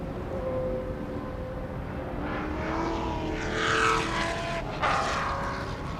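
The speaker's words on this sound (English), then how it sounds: "Cars coming out of the last corner, across the line, and he's got it going once again" Historic race cars in Masters Endurance Legends qualifying at The Classic 2021 sweep out of the last corner and across the line, engines rising and fading as they pass by at moderate distance, one roaring louder and closer before another follows.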